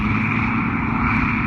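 A 7850 forage chopper runs in a farm field, its engine a loud, steady, unbroken drone close by, with no voices.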